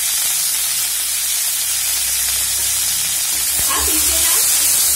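Spiced food with salt and turmeric frying in a pan over medium heat for Sheem Bhapa, a steady, close, loud sizzle and hiss with a brief stir near the end.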